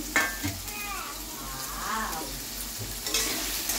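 Potatoes fry in hot oil over a high gas flame, a soft continuous sizzle with occasional stirring scrapes, fairly quiet and steady throughout.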